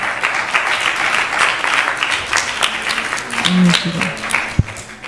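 A crowd at a temple evening gathering applauds a family celebrating a wedding anniversary, steady clapping running under a speaking voice, with a brief sharp thump near the end.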